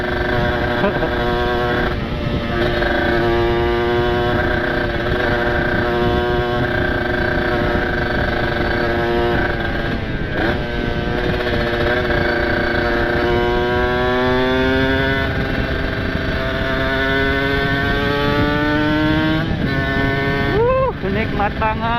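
A motorcycle with a ported, specially built engine and a loud aftermarket exhaust drones steadily nearby for the whole stretch. Its pitch rises and falls through gear changes and revs, with no pauses.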